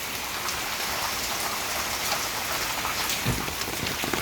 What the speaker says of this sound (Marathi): आज आहे 4 जुलै 2026 आणि भारी पाऊस लागला